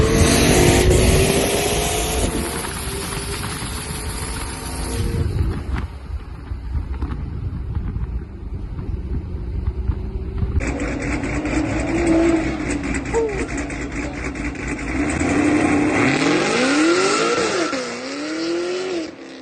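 Car engines roar and rev loudly at close range in a drag race, with a gear change mid-run and a rising, swooping whine near the end; brief voices underneath.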